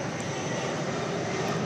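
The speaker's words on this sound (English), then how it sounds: "I believe we have a Delta airplane about to land here." Delta airliner on approach to land at DFW Airport at night, a steady broad engine roar filling the scene without pause, fairly loud and continuous.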